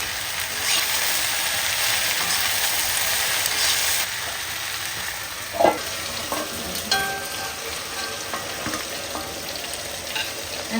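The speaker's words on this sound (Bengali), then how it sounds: "মাছের তেলেই এখন তরকারিটা বসানো" Curry set to cook in oil left from frying hilsa fish, with salt and turmeric, sizzling steadily in the pan, with a few clinks of stirring partway through and no talk.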